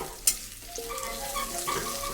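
Potatoes frying in fish oil in a pan, a quiet sizzle broken by a sharp scrape or clink of stirring near the start and another later, no voices.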